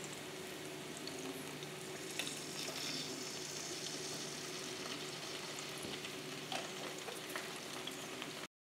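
Minced garlic sautés in a pan with a soft, steady sizzle and faint stirring, quiet and uninterrupted, with no voices.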